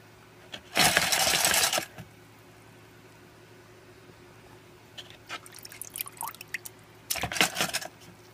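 Copper pennies are handled in muriatic acid. A sustained rattling, rushing burst comes first, then scattered small clinks and splashes, then another rattling burst, all close and moderately loud.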